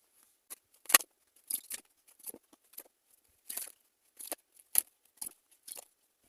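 Tarot cards being handled and drawn from a deck: a series of short, crisp papery snaps and slides, about a dozen separate brief bursts at an uneven rhythm, close and fairly quiet against silence, with no talking.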